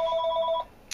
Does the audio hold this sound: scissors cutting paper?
no